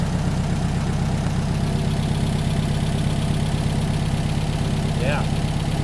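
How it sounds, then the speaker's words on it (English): A rebuilt 40HP air-cooled VW engine idles steadily and smoothly, a continuous low even drone held close by throughout, with a brief faint chirp near the end. "It's coming back to idle real nice"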